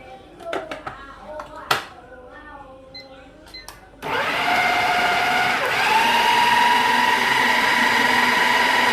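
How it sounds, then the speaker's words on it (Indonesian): Brief talk and clatter, then a blender switches on and runs loudly and steadily, a high whirring motor grinding beef for meatballs without pause. "kita blender lagi sampai halus"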